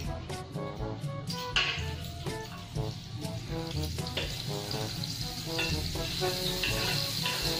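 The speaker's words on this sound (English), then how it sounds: "heat the butter on the frying pan." Steady crackling sizzle of butter in a hot frying pan, continuous and close, with occasional light scraping or stirring sounds.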